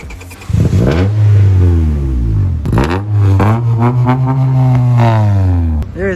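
A Honda Civic 1.6 SOHC VTEC engine is revved up close and loud, climbing in two long sustained blips with a brief dip between them and settling back toward idle at the end.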